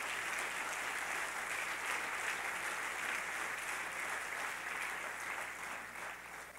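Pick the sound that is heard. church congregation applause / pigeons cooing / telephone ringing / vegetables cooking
church congregation applause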